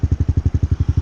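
A motorcycle engine pulses in fast, even bursts while the rider blips the throttle practising rev matching, a steady close throbbing with about eleven beats in a second.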